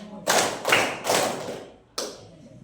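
Schoolchildren clap together in a short counted pattern: three spaced group claps in a row, a brief gap, then one final clap, fairly close and moderately loud.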